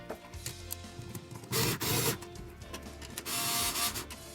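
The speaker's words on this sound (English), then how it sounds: "So now let's tighten up these tension rods and get the hoops seated and sitting properly." Tension rods on a Ludwig Acrolite snare drum are tightened, making two short bursts of close scraping, ratcheting metal on metal against a quiet workshop background.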